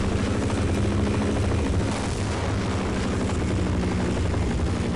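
A Half-Life helicopter keeps up a continuous, loud rotor roar, broadband and steady throughout, with no speech over it.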